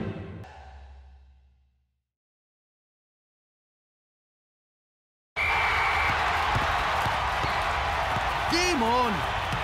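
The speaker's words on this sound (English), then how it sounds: "If anyone can handle the noisy home crowd, it must be Nakama." Roar of a noisy home crowd at a cartoon soccer match, a dense loud wall of cheering and noise that bursts in after a short voice and a stretch of silence, with shrill whistles rising over it.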